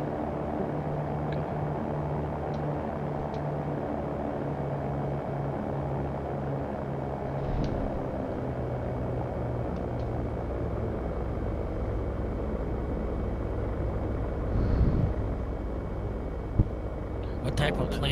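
A Cirrus SR20 light aircraft in the X-Plane 11 flight simulator drones with a steady, even engine hum and propeller rumble throughout, with faint clicks above it.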